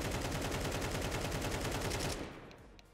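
Sustained automatic weapon spray in Counter-Strike 2 during aim practice: rapid, evenly spaced loud shots in a continuous burst of about two seconds, then cutting off into a fading tail.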